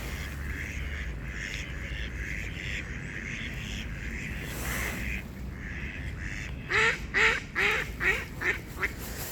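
Swans being hand-fed outdoors give a run of five or six loud honking calls near the end, following several seconds of steady background noise.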